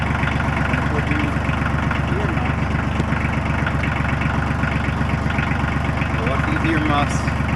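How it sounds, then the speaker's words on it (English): A tractor engine idles steadily outdoors beside a sawmill, a loud, close, even low throb that holds throughout the stretch with no pauses. "Okay, got the tractor started."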